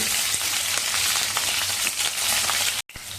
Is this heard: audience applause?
no